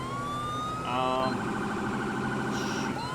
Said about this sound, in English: I'm trying to switch through my different sirens.